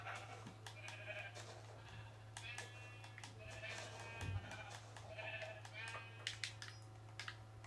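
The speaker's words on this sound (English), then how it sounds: "I'm just, you know, killing sheep." Sheep in the Minecraft video game bleat in several short, repeated calls spread across the stretch, fairly faint beneath a steady low hum.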